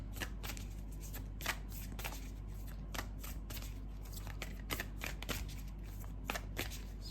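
Cards of an advice deck riffle and snap through repeated shuffles, a steady crisp flutter with sharp bursts every half second or so, close and fairly quiet over a constant low hum.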